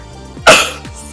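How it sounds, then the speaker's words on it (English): A single sharp sneeze bursts out during an arm workout session, loud and close, with a breathy onset and a quickly fading tail, surrounded by quiet room tone. "I'm going to sneeze here."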